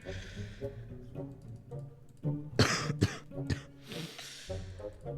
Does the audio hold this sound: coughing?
yes